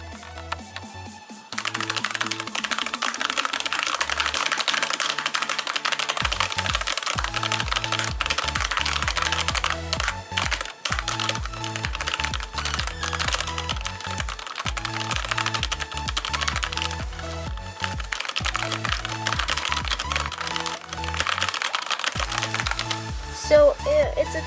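Typing on a Redragon K552 Kumara mechanical keyboard produces a dense, continuous run of sharp, close clicks, with a brief stretch of louder strikes and only a short pause.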